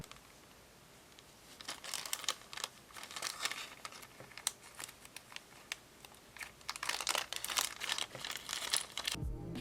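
Card being trimmed for a small living room diorama: crisp crinkling and snipping in irregular bursts, close and fairly quiet, growing busier toward the end, with no speech.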